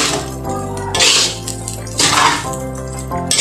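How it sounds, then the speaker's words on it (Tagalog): A spatula scrapes and clanks against a pan while sinangag, Filipino garlic fried rice, is stirred, giving repeated bursts of metallic scraping and clinking close up, with no talking. "Haluin po natin ulit."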